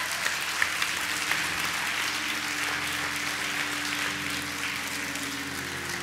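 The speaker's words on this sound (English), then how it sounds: "give the Lord a hand clap of praise." A church congregation claps in praise during a worship service, a steady, dense wash of many hands sustained for the full stretch at moderate loudness, with a low instrumental hum underneath.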